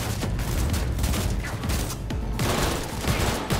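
Gunfire in the video game Cyberpunk 2077, dense continuous volleys of rapid shots and impacts filling the whole stretch with barely a pause, loud and close, no talking over it.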